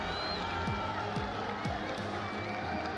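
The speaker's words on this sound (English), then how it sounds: "getting a rise out of the Falcons crowd here in Riyadh" Home crowd of Falcons fans cheering at an esports event in Riyadh, a loud sustained roar with commentary carrying over it.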